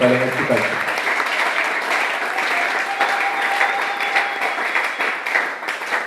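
A church congregation claps and cheers in sustained, dense applause for the full span, loud and close, with voices mixed into the crowd noise.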